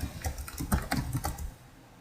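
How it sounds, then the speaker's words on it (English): Quick bursts of keystrokes on a computer keyboard as a web search is typed, close and clear, with about a dozen rapid clicks before the typing stops and quiet follows. "I'm going to type in how to lose weight"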